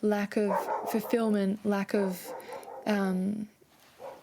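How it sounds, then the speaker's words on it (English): Dogs bark in the background, partly masked by a person speaking steadily in the foreground. "sorry about the dogs"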